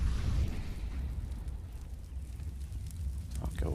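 A CS:GO incendiary grenade burns with a continuous roaring, crackling rush of flame, steady and fairly close, with no voices over it.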